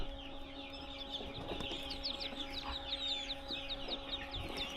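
Many small quail, newly hatching, keep up a dense, overlapping chatter of quick high chirps, close and lively, over a steady mechanical hum with no talking.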